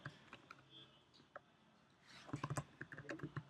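Computer keyboard keys tapped while entering Flutter code for an e-commerce mobile app, sparse single clicks at first, then a quicker, louder burst of typing near the microphone with no speech.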